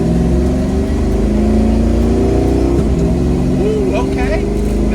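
A Ford Mustang Foxbody with a new transmission roars hard and loud as it accelerates, its engine pitch climbing, then a brief jolt and dip mid-run as it snaps into the next gear before pulling again.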